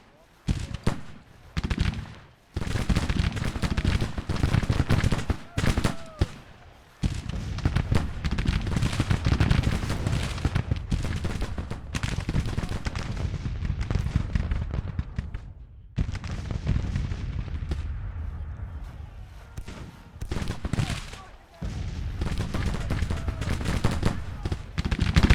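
Musket volleys and artillery fire from the Civil War strategy game Grand Tactician roar in dense, continuous crackling bursts with brief gaps, loud and sustained.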